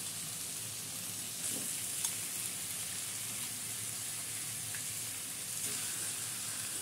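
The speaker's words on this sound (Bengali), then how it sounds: "এখন আমি এটার মধ্যে এই চিকেনটাকে দিয়ে দিচ্ছি।" Half a kilo of chicken frying in a pan for doi chicken, a steady close sizzle and crackle with faint stirring clicks, continuous throughout, no talk.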